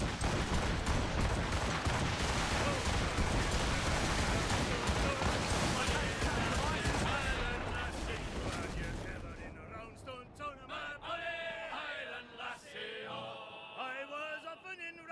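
Ship cannon fire in Assassin's Creed Rogue, a dense, loud barrage of booms and crackling blasts for several seconds that fades into a quieter stretch with a voice and sea-shanty-like singing.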